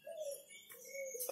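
A caged oriental magpie-robin gives soft, drawn-out whistled calls with a few higher chirps, faint and steady, with no talking.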